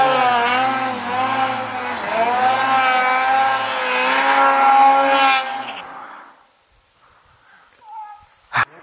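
A turbocharged snowmobile held at wide open throttle: a loud, sustained high engine whine that wavers in pitch for about six seconds, then cuts off into near silence broken by brief faint sounds.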